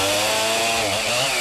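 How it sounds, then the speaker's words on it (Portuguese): Chainsaw cutting in a hard-to-reach eucalyptus reforestation plantation on a hillside, a loud, continuous buzzing whine that wavers slightly in pitch as the engine works, nearby and alone. "o tropel da mulada é encoberto pelo som da motosserra"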